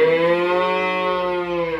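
A healthy four-month-old Pegon/Limousin calf lets out one drawn-out, resonant moo, close and loud, with nothing else around it.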